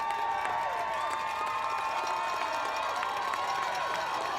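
The Canton South crowd cheers and roars at a high school football game against Alliance, a dense, continuous wall of shouting voices from the stands heard from a distance.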